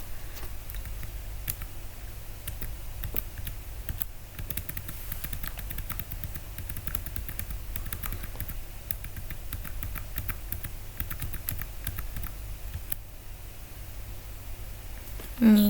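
Fast, irregular keystrokes on a computer keyboard clatter steadily for about fifteen seconds over a low background hum, with a brief louder bump at the very end.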